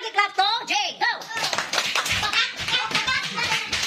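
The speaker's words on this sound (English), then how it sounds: "Let's give Froggy clap to Jay." Classroom students doing a rhythmic group clap after a cursive writing lesson; after a voice speaks at the start, a burst of quick, close, uneven hand claps with children's voices mixed in.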